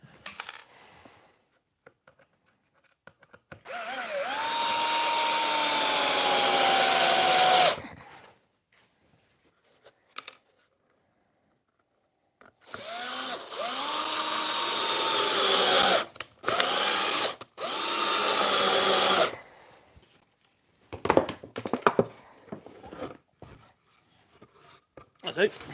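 A power drill driving screws into wood in a woodworking shop, in two long bursts of steady high whine with rising and falling pitch, then a run of short stop-start pulses, with speech between the runs.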